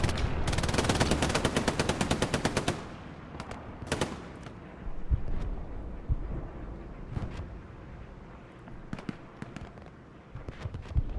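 MG42 machine gun fire in the video game Hell Let Loose, opening with a loud rapid sustained burst and followed by scattered shots and distant cracks of gunfire.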